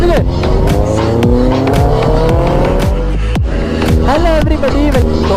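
Hayabusa and ZX-10R sport motorcycles launched at full throttle in a 0–100 acceleration run, with loud, continuous engine roar climbing steadily in pitch through the gears, close by and dominating throughout.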